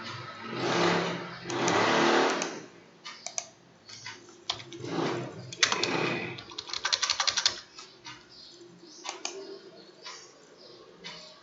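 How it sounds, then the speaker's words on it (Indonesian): Rapid, irregular clicking of keys on a computer keyboard, close and clear, in bursts with short pauses, no voices. "Kita akan coba ketik sajalah"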